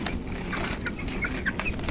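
Tiger breed broiler chickens in a poultry shed, close clucking in several short, uneven bursts over a constant background murmur.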